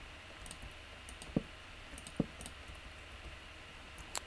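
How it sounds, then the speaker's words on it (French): A few sharp, faint clicks from fingers pressing a laptop touchpad, spaced irregularly over a quiet background with no talk. "Pourquoi ça clique là? Ah, c'est le pad en fait, c'est moi qui ai en train de toucher à mon pad."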